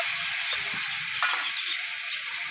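Chopped onion and a tomato frying in a pan for a Bengali puti fish and brinjal curry, giving a steady close sizzle with a few soft stirring scrapes and a brief clink near the middle.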